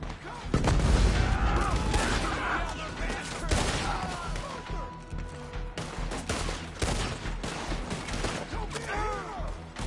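A Red Dead Redemption 2 shootout erupts in loud, dense volleys of rifle and pistol fire with heavy booms, continuing throughout while characters shout over the gunfire.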